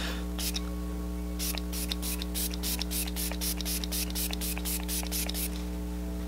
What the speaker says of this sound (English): now I'm going to go in with my Tarte Stay Spray.